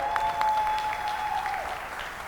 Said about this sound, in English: Please give a wonderful, wonderful round of applause